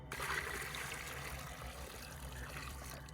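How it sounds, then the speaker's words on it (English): Cold water poured into a bucket of hot water for a shower inside a self-built micro camper, a steady close splashing pour that runs unbroken for the whole stretch with no talk. "we're mixing this with some cold water"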